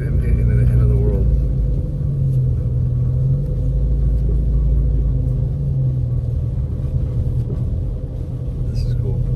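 A car drives slowly on slick, snowy roads around a lake during heavy snowfall, a deep continuous engine and tire rumble heard from inside, with a person talking over it.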